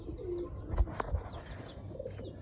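A pigeon coos softly nearby in a few low, throaty calls, with faint chirps from other birds in the background.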